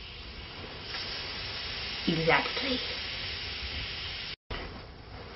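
Water hits a hot griddle and turns to steam with a steady, broad hiss that runs throughout, under a brief spoken word from a voice partway through.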